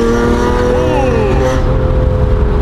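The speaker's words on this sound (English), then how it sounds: "the induction sounds whenever you upshift, it sounds so good" A Porsche V12 engine with manual gearbox pulls hard with a rising induction note, upshifts, and keeps droning steadily close by.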